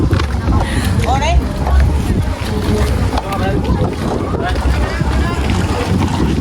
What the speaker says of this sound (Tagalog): Sakay tayo sa bangka guys.